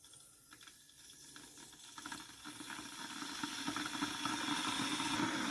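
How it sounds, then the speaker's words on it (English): An electric kettle in a hotel room heats water, a hissing, crackling rumble that slowly builds in loudness over several seconds, heard alone up close. "the kettle which you need to fill up here."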